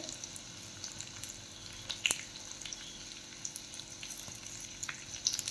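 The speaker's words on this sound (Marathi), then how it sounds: "लसणाबरोबर लाल मिरच्याही तळून घ्यायच्या आहेत" Garlic and two dried red chillies frying in hot oil for a tadka, a steady close sizzle with small crackles and pops throughout, one sharper spit near the middle.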